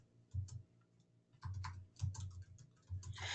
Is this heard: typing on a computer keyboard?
yes